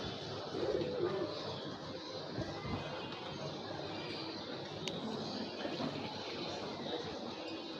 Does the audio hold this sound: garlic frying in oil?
no